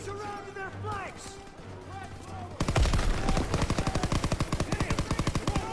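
Rapid machine gun fire in Call of Duty WW2, a loud, fast, evenly spaced burst that starts abruptly partway through and continues to the end, following a stretch of voices talking.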